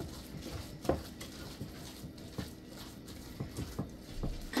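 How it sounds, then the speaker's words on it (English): Dry cake batter ingredients, flour with baking powder, salt and cinnamon, being mixed in a bowl for an almond banana cake, with soft scraping and light irregular clinks of the utensil against the bowl, close and quiet. "Now I'm going to mix this well."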